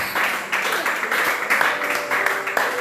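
A church congregation applauding during a service, a steady wash of clapping at moderate loudness with faint voices mixed in.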